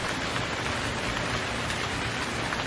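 Steady rain falls without pause, a dense even hiss of drops hitting surfaces nearby.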